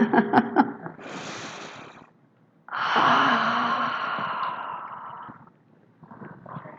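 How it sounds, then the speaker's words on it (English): A church congregation breathes together during a service stretch, long collective exhalations and sighs swelling in broad waves with brief quiet gaps between them, no speech over them. "Let's everybody stretch, breathe."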